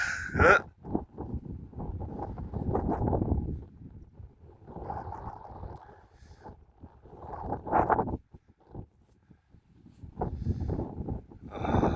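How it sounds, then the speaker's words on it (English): Wind on an open hillfort walk in Wiltshire near Battlesbury camp: gusts buffet the microphone in low, rumbling bursts that rise and fall, with quiet gaps between them. "A little bit of a wind about now, that's alright, not too bad."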